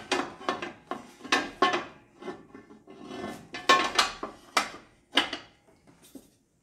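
A metal broiling pan is fitted into a vintage Chambers Model C stove, giving a series of close, sharp metallic clanks, scrapes and rattles in an irregular rhythm, with no talking.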